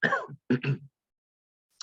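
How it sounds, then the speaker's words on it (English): A person with a lingering post-COVID cough clears their throat twice in quick, rough bursts, close and fairly loud, followed by silence. "still have a residue cough from COVID"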